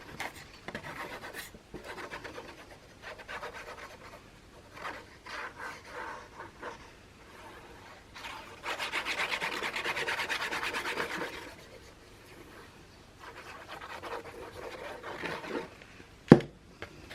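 Paper being glued and rubbed firmly down onto a scrapbook album page, a close, dry rubbing and scraping that comes in repeated strokes, with a longer continuous rub partway through and a sharp knock near the end.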